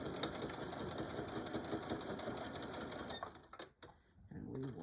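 A sewing machine sews a small pouch made from jeans denim, running in a fast steady rattle of stitches for about three seconds, then stopping with a few clicks and handling noises, close up.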